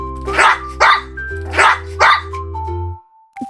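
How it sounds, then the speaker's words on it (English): An animated farm dog barks four times in two evenly spaced pairs, loud and close, over light background music in a children's cartoon, followed by a brief chime. "Dog,"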